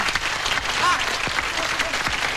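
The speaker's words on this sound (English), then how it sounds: "Give Oh, him a yeah. clap." Studio audience clapping at a 1988 animal-themed television show, a dense steady wash of applause from a crowd, fairly loud and continuous, with a brief tonal squeak partway through.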